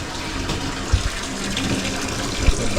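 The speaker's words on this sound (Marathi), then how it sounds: "अर्धा तास झाला हे नळ सोडून अजून भरलाच नाही." Tap water runs steadily into a bathtub, a continuous broadband rush of filling water with faint low thumps, close and unbroken throughout.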